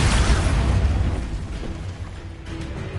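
A Bombarda spell blast in Hogwarts Legacy, a loud, dense booming burst that rumbles heavily at first and then slowly tails off with a lingering roar.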